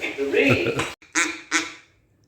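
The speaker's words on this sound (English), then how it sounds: "So they give you a duck call in a bag" Duck call blown in short quacking bursts, about three close honks with a brief gap, loud and near, following a stretch of indistinct voice.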